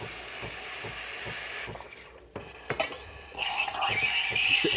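The steam wand of a Bellman CX25P stovetop espresso maker and steamer purges with a hissing rush of steam that fades, then a few clinks, then the hiss returns louder and steadier.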